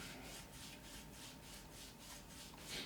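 Sandpaper rubs back and forth on a South Bend lathe part in steady rhythmic strokes, a faint close rasping whoosh about every third of a second.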